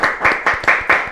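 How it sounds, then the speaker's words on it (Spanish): Crowd applause for the Mexican ambassador at a celebration of Mexico's 215th independence anniversary, loud and close, with a few bursts of clapping pulsing in a quick rhythm. "solicitamos un fortísimo aplauso"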